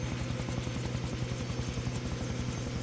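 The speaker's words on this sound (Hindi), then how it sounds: "मुझे नहीं पता ये हेलीकॉप्टर आया क्यों है" A helicopter in the video game Far Cry 3 makes a loud, steady rotor thump with rapid, even beats that fill the whole stretch and go on without a break.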